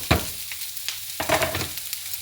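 Chopped onion frying in extra virgin olive oil for a Spanish dish, a soft sizzle broken by a few sharp clattering stirs, close and moderately quiet.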